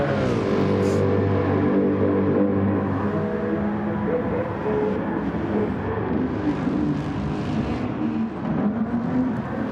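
A Mercedes-AMG race car engine in a racing video game round at Spa-Francorchamps, a loud sustained engine drone with shifting pitch as it revs and changes gear, steady throughout, with no talking.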